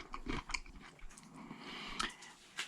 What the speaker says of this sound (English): it has a nice crunch to it